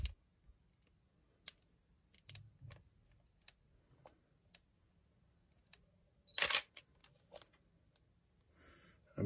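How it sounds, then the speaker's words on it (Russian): A camera lens confirms focus with a few faint, sharp electronic beeps and small clicks, spread over near silence with one louder burst of mechanical clatter. "Подтверждение фокусировки светом и звуком"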